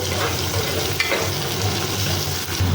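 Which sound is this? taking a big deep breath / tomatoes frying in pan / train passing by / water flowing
tomatoes frying in pan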